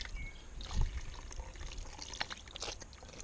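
Water poured and trickling into a gold pan during backwash panning, splashing and dribbling at close range with a few uneven gushes, no talking.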